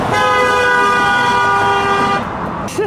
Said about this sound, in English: Why are you honking at us?